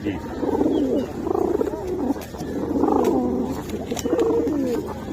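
Pigeons at a busy pigeon market coo in repeated low, throaty phrases, close and fairly loud, over a steady murmur of background noise and faint voices.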